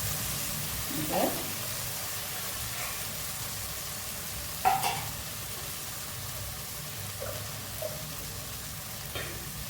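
Dal stirred into spices fried in oil for a moringa drumstick-leaf dal, a low steady sizzle with a few soft stirring scrapes at intervals.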